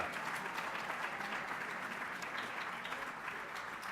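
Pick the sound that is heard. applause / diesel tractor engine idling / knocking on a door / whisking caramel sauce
applause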